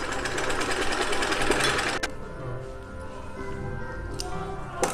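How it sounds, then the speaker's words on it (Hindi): A sewing machine runs steadily for about two seconds, stitching the double-folded hem of a girl's top, then stops, leaving quieter shop noise with a few faint clicks. "पूरे घेर पर डबल फोल्ड करेंगे और सिलाई लगाएंगे"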